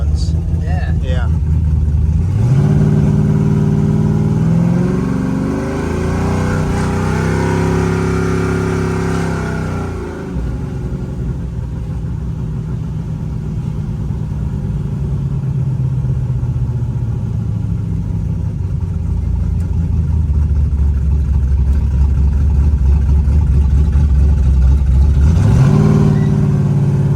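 A 1969 Chevrolet Camaro engine runs with a deep, loud rumble, revving up and falling back several times. Its pitch rises and drops in sweeping climbs, and people talk nearby at points.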